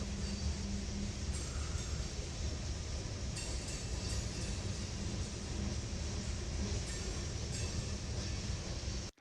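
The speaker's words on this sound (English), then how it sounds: "That's a train." Steady roar of a passing train with rail clatter and occasional metallic clinks, loud and close, running continuously until it stops suddenly at the end.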